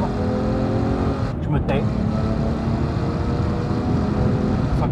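Kelleners KS1-RS race car engine roaring at high revs in third gear entering a straight, loud and close, with a brief gear shift and someone speaking briefly in French over it.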